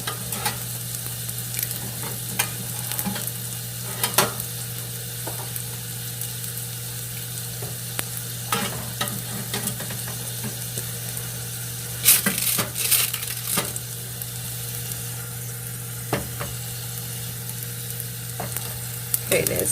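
Spring rolls frying in a pan give off a steady close sizzle, broken by occasional clicks and scrapes of a utensil against the pan, with no talking.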